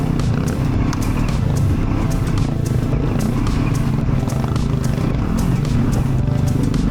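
A KTM 701 enduro motorcycle rides a rocky, stony trail, its single-cylinder engine giving a steady close drone while sharp rattling knocks of tires over loose rocks punctuate it in an irregular stream.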